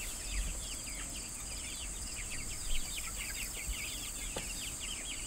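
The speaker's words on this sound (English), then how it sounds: "I think the meat birds are happy in their new little home here." Meat chickens out on pasture cluck softly in the distance over a steady outdoor wash of insects and faint chirps, with no talking.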